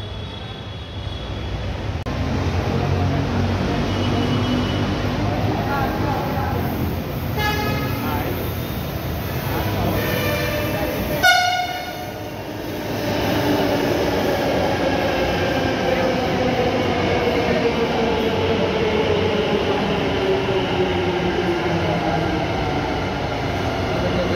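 A metro train on Bangalore's Yellow Line starts and rumbles steadily along the track, a continuous loud mechanical roar with a brief sharp clatter midway, and no clear talk.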